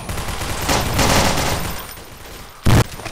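A grenade explodes in the blocky shooter Blockade 3D on a lab map: a single short, loud, thumping blast near the end, preceded by a stretch of rumbling gunfire and battle noise.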